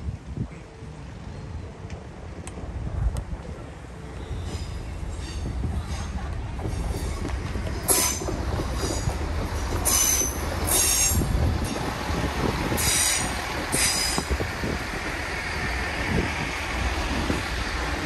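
A train runs past at Dawlish Warren on the line toward Exeter, a steady rolling rumble with a few sharp, high wheel squeals that rise and fade through the middle of its pass.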